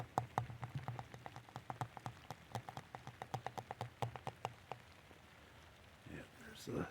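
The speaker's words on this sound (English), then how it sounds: "Okay, rainy day today." Rain falls poolside on an overcast fall day, heard as a quick run of close, distinct drips and taps that fades out, followed by faint soft rustling.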